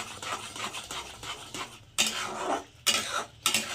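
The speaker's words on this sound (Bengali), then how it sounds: "এবার পুরো মশলাগুলোকে আমি একসঙ্গে ভালো করে মিশিয়ে" Coriander and chili powders are mixed together in a pan with a spoon, making close scraping and clattering strokes, some louder and sharper than others, in an irregular rhythm.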